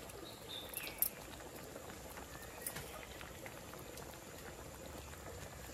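A pot of Konkani mackerel kadhi, a fish curry, simmers with soft, continuous bubbling and small pops, faint and close with nothing else over it.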